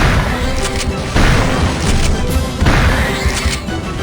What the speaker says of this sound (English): it has a sharp thunderclap of a shot sound, conveying immense immediate power